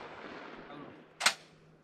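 A single shotgun blast at an outdoor shooting range, one sharp report heard at a distance over faint background noise, followed by a short decay.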